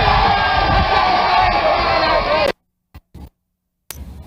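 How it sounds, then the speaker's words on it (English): A large convention crowd at the 1960 Republican National Convention roars and cheers for Nelson Rockefeller, a loud, dense, sustained wall of voices that cuts off abruptly, followed by brief fragments of sound. "a great, great, great cheer for the next President of the United States, the Honorable Nelson A."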